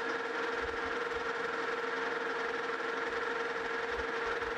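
Steady machining hum of a lathe facing the hub of a cast iron wheel for an antique vise cart, a constant tonal drone with a faint low rumble, no speech.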